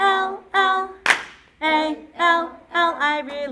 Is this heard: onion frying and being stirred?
no